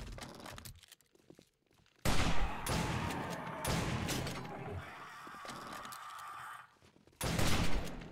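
Pistol gunfire in 7 Days To Die, a loud close volley of shots sustained for several seconds, dropping off, then a second sharp burst near the end.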